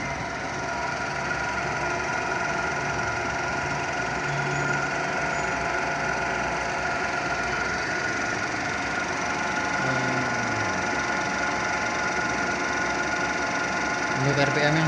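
An electric motor runs unloaded at 80 volts, a steady mechanical whir with a broad hum and faint rattling that holds even throughout, while a person speaks quietly beneath it at points.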